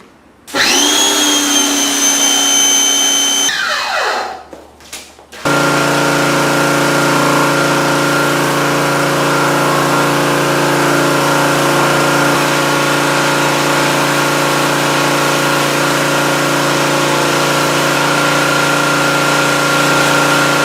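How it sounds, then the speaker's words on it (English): A pressure washer is stripping paint residue off concrete. After a short start it settles into a loud, steady, continuous motor hum with a hissing spray, and no one talks over it. "So I'm hoping the pressure washer helps me with that."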